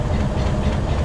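A train stands at a small rural railway station on a Pakistan Railways line, giving a steady loud low rumble with a faint hiss. The sound is constant and close, with no talk.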